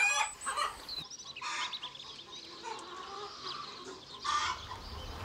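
Hens on a farm cluck and squawk in short, uneven bursts, some calls loud and close and others softer, with a rooster-like crow mixed in and no talking.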